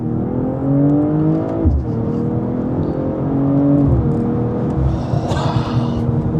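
A BMW M440i xDrive with its turbocharged engine launches hard from a standstill, loud and close, revving up through rising gear pulls with a brief drop at each shift.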